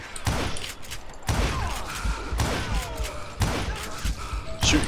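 Revolver and rifle shots in the Western shooter Call of Juarez Gunslinger, four or five sharp cracks spaced about a second apart amid clattering ambience, fairly close and loud.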